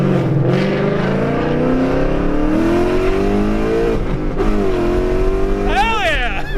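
A 550 hp Ford Mustang GT V8 engine roars and climbs in pitch as it accelerates hard, loud and close, with a brief tire squeal near the end.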